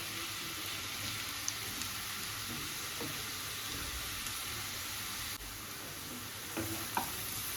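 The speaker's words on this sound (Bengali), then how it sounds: "তো ঘিটা দেখো গরম হয়ে গেছে এবার আমি গাজরটা দিয়ে দেবো" Grated carrots hitting hot ghee in a pan for carrot halwa give a steady, soft sizzle that runs unbroken throughout, with a few faint clinks of utensils near the end.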